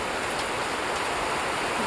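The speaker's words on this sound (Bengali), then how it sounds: "বৃষ্টি বৃষ্টি বৃষ্টি, আহা দেখো ছেলেরা খেলছে বৃষ্টিতে।" Steady rain falls on a rainy day among flowers, a dense, even hiss of countless drops without pauses, fairly loud and close, with no voices over it.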